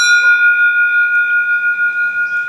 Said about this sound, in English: I remembered you're supposed to ring this bell to scare off the bears.